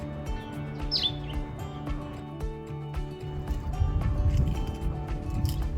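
Cape Sparrows chirp at their nest in a springtime South African garden among climbing roses: a few faint, brief tweets over a steady low hum and rustling handling noise.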